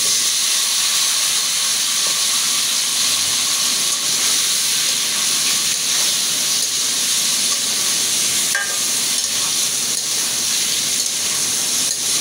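Elephant foot yam dropped into a pan of fried onions, a loud continuous steamy sizzle and hiss of frying with occasional faint stirring clinks.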